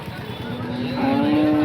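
A cow moos once at a cattle market in Sangola, Maharashtra, a low drawn-out call rising in strength over a second or so, close by.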